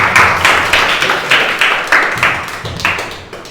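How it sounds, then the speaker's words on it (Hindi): Loud, close rhythmic group clapping at a film team celebration event, with regular pulsing beats as the crowd claps in unison, steady throughout. "और एक बार सब जन जोरदार ताली के साथ में प्रेम के"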